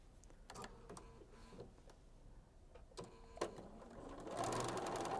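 A sewing machine stitches quilt patches together, its needle running in short bursts of rapid mechanical whirring and clatter between pauses, with a longer and louder run at the end, close and without voices.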